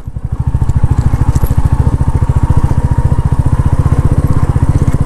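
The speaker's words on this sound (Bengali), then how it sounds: "বাইক নিয়েই ঢুকে পড়ি" A motorcycle engine runs off-road on a trail through greenery toward a waterfall, its rapid, even pulsing exhaust loud and close, revving steadily with a few crackles.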